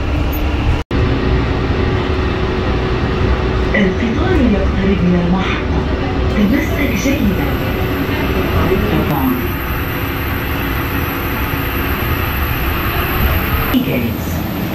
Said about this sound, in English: القطار يقترب من المحطة.